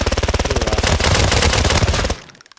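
Rapid automatic gunfire from a high-fire-rate weapon in the video game Arena Breakout Infinite, a dense continuous burst of loud shots lasting about two seconds, then a few trailing echoing cracks fading out.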